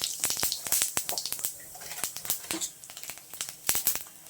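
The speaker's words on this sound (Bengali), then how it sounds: "একটু জিরে ফোড়ন দিলাম" Cumin seeds tempering in hot oil for a chicken curry crackle and spit in quick, irregular pops and bursts, close and fairly loud throughout with a constant sizzling hiss underneath.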